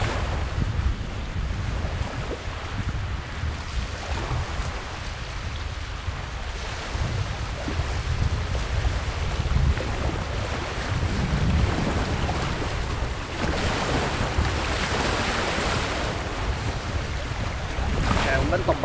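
A strong wind blows toward the shore of a lake and rumbles steadily across the microphone, mixed with the wash of small waves, continuous and close, with faint talk underneath.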